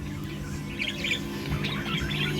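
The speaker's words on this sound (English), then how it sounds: "So we caught the bird and it got in here." Pet birds in a cage give a few short, bright chirps and tweets in quick bursts, close by, over a steady low background hum.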